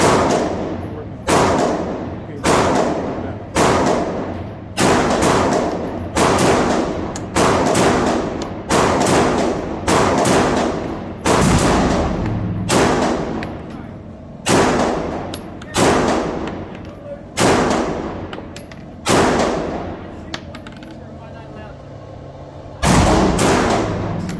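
Rapid, evenly spaced pistol shots from a Smith & Wesson M&P 2.0 Metal 9mm Competitor fitted with a magwell, fired through a full magazine at a target; about fifteen loud, sharp reports, each ringing out before the next.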